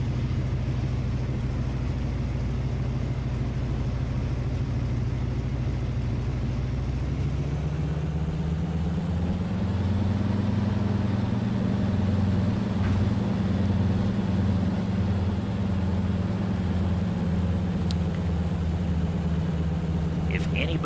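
A MilViz Beaver floatplane-era bush aircraft taxiing in FSX, its radial engine droning steadily and deepening into a louder, lower rumble midway as it rolls along the runway, with someone talking over it.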